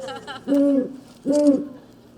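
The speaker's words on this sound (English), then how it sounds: "That would be the barred owl that you have often in your yards." A barred owl gives two clear, resonant hoots about three-quarters of a second apart, each a steady low call standing alone against a quiet background.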